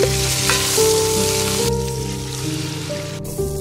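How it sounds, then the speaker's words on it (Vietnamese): Garlic and fish fry in a pot for a sour soup, giving a steady, dense sizzle with a continuous crackling hiss that runs close and loud throughout. "khử tỏi cho thơm rồi cho cá vào đảo sơ"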